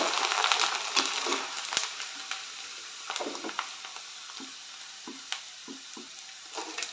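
Sandige, sun-dried rice crisps, deep-frying in hot oil: a steady bubbling sizzle with scattered crackles and soft pops, loudest at first, then settling into an even, close fry.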